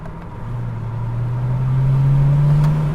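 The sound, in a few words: BMW exhaust note while accelerating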